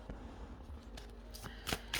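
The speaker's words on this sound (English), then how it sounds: "I'm going to shuffle the cards and see what messages come out with your career for pile 2" Tarot cards being shuffled by hand, soft papery riffles and slides with a few sharper flicks and snaps near the end, close and fairly quiet, with no talk.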